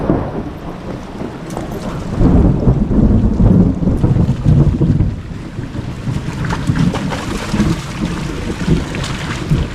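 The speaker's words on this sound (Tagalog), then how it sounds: "Yan, kumukulog." Deep rolling thunder rumbles loudly over a rough, windy outdoor background, swelling in the middle and then trailing off slowly.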